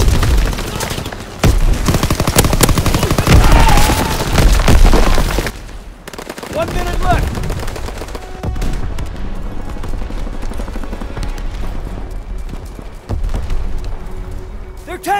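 Call of Duty gunfire rattles in dense bursts of machine-gun fusillade and booming shots, loud at first and then thinner and more scattered, with voices shouting under the battle noise.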